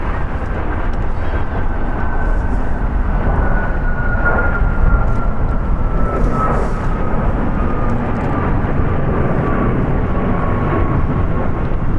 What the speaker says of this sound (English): Departing is United Airlines 2113 going to Chicago. It's a Boeing 737 MAX 8.